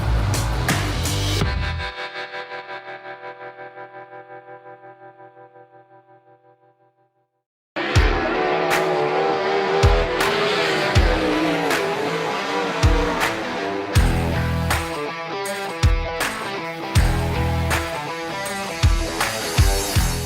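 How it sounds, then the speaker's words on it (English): World of Outlaws sprint cars racing on a dirt track, engines howling loud and close with sharp repeated bursts as cars pass, after a fading opening roar and a short lull. "it's nice to drive a fast sprint car"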